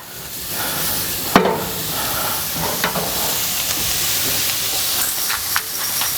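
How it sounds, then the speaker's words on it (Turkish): Oyster mushrooms sizzle in a hot pan with a continuous steamy hiss, broken by a few brief clinks and scrapes of stirring. "Hemen mantarlarımı ilave ediyorum. Ben istiride mantarı kullandım bu arada"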